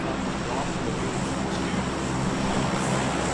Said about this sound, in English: You get to hear the plane every single time